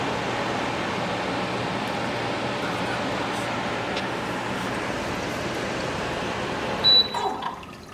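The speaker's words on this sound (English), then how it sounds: "Now you can hear the water when pump stop" Water trickling and dripping inside a Honeywell evaporative indoor air cooler after its pump stops, a steady soft wash of splashing with a short clunk near the end.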